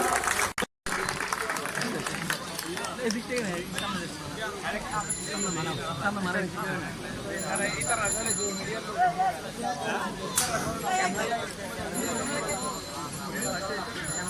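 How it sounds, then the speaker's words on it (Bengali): Applause for a guest at a reception in Chittagong, a dense, sustained clapping from a crowd running the whole length amid background hubbub and voices. "ওনাকে আমরা করতালির মাধ্যমে একটু অভিনন্দন করতে চাই"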